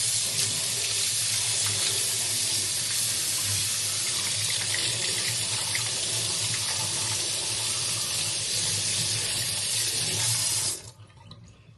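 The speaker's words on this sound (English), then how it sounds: "I'm going to wash this apple." A kitchen faucet runs steadily into the sink while an apple is washed under it, the water a loud, continuous close-up rush for about eleven seconds before it is shut off abruptly.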